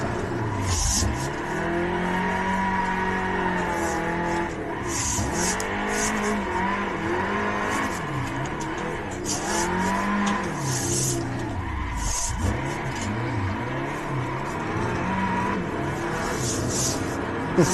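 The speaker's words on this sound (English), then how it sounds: "as I like to drift cars that shouldn't drift, this just seemed right" Old Hyundai car drifting on a race track, engine revving hard with long, loud tire squeals that rise and fall in repeated sweeps as the car slides through corners, continuous and close.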